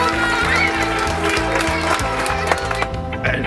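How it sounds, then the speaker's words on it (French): Audience applause in a room, brisk clapping from a small crowd over steady background music with a repeating low beat, fading near the end. "On peut l'applaudir."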